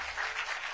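A studio audience at a televised event claps in a short, dense burst of applause, a uniform crackling patter without voices.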